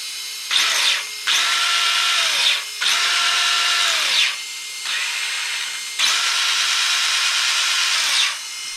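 A brushed or brushless electric motor in a Yokomo MR-4 TC radio-controlled touring car whines in five sharp bursts of high revving, each rising and cutting off, with short quiet gaps between.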